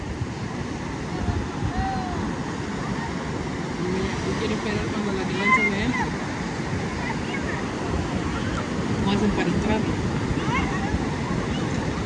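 Ocean waves wash in on a rising tide at Playa El Espino with a constant broad roar, wind buffeting the microphone, and faint voices now and then in the background.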